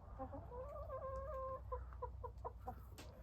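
A hen clucks in a farm chicken coop on a rainy day, a run of rhythmic, close clucks in a rising and falling pattern over a low background rumble.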